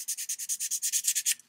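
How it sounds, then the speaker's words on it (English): Short back-and-forth strokes of sandpaper over primer on O scale model ticket booths, about a dozen even, close rasping passes in a steady rhythm before stopping. "I'm going to do a little sanding"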